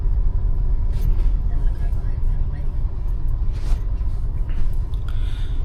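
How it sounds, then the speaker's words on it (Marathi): Heavy midday traffic on the Manpada–Sonarpada road in Dombivli, a loud continuous rumble of cars and buses with passing engine whooshes and an air-brake hiss, someone speaking over it. "मानपाडा सोनारपाडा या रोडला ट्रॅफिक बघा"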